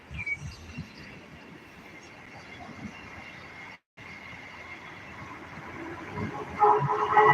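A two-coach DMU shuttle train approaches with a low steady rumble that swells louder near the end, broken by a brief dropout midway, with no talk.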